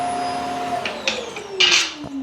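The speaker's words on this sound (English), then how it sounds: "Vacuuming is going on." Robot vacuum cleaner running indoors on a Sunday morning, a steady motor whine that slowly drops in pitch, with scattered clicks and brief brushing bursts, moderately near and no talk.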